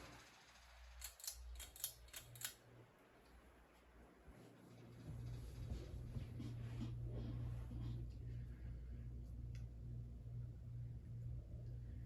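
Small 38-inch Homestead Universal Monterey ceiling fan spinning down, a steady low motor hum and rumble rising then continuing, after a few light clicks near the start.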